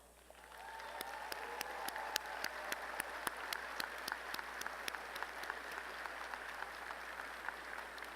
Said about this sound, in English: Would the parents of the graduates please stand and receive our applause?